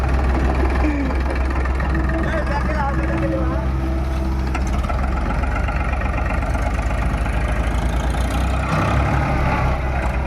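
A stuck car strains to climb free, its engine revving hard and droning loudly and continuously at close range, while people talk and shout over it.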